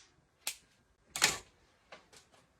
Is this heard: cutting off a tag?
yes